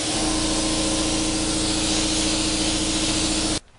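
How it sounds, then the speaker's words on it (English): An Applied Colors AC1000 spray gun texturizing a vinyl repair area behind a cardboard shield, a loud, steady, close hiss of air and spray grain that holds for about three and a half seconds and then cuts off abruptly. "So using this as a shield, I'm going to texturize our repair area."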